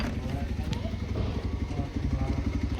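A motorcycle engine runs close by with a steady, throbbing low rumble and rhythmic clatter, loud and continuous throughout.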